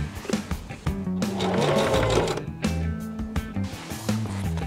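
Sewing machine stitching a seam on a golf cart box cushion seat cover, running steadily and loudly up close, with its motor hum rising and falling as the stitching speed changes.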